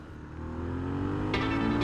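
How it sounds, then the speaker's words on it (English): Harley-Davidson Sportster S motorcycle with a gutted exhaust revs steadily, a deep loud engine drone rising slightly in pitch, with a couple of brief sharp mechanical clicks near the end. "they've already gutted this exhaust. So it sounds exactly the way a Harley-Davidson is supposed to"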